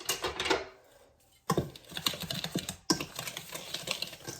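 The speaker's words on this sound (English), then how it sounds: "I'm going to use the whisk." A wire whisk stirs white granulated sugar and packed brown sugar together in a bowl, making rapid, dense scratchy clicks in bursts with brief pauses between strokes.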